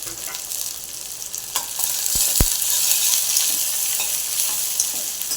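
Onion, garlic, tomato, curry leaves and green chili sautéing in a pan for a green bean dish, giving a continuous bright sizzle with a couple of sharp utensil knocks on the pan.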